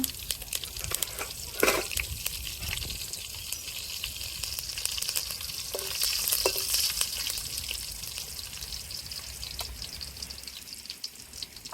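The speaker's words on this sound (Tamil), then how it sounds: "வரமிளகாய் கருவேப்பிலை தலையும் நல்லா வதங்கிருச்சுங்க." Dried red chillies and curry leaves fry in hot oil for Pallipalayam chicken, a continuous dense crackling sizzle up close, with occasional utensil scrapes and stirring rustles through it.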